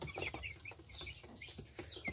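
Young chicks in their new, larger cage give soft, repeated high peeps and chirps in quick succession, faint and close, over low background noise.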